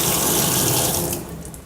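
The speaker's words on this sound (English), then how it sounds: "turn on the cold water" Cold water runs from a kitchen tap into a sink in a steady, loud, close rushing hiss that thins slightly near the end.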